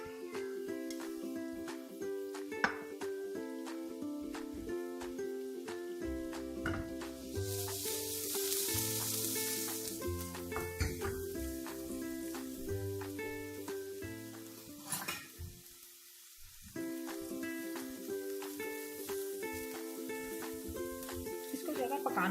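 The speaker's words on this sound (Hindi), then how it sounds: "उसमें मैं कैबेज को थोड़ा सा सौते कर लूँगी।" Cabbage sautéing in about two tablespoons of cooking oil in a pan, a steady sizzle broken by clinks and scrapes of a utensil, with a brief louder hiss partway through and someone speaking now and then over it.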